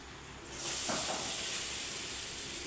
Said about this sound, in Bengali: দেখো দিদি ভাই, গা ঘিটা আমার গলে গেছে। এবারে আমি গাজরগুলো তুলে দেবো।